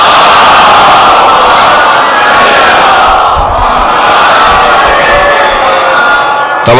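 A mosque congregation at a Majlis Arbaeen gathering loudly reciting salawat together. The massed voices form a dense, sustained roar of unison chanting that stays close and powerful throughout.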